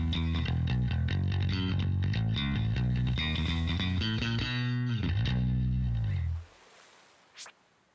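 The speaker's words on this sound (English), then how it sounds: "At once, Roxy launched into a heavy bass riff" A heavy, distorted bass riff from Pokémon Masters plays loud and continuous with dense sustained notes, then cuts off abruptly, leaving near silence and one brief faint blip.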